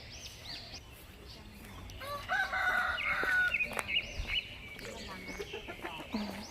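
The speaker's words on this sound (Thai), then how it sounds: "อันนี้เป็นไก่ชนใช่ไหมคะพี่ เพราะเยอะมากเลย ไก่ชนทั้งนั้นเลยเนี่ย" Fighting cocks at a rural property crow and cluck, several birds at once, some near and some farther off, with a long crow standing out in the middle and faint talking underneath.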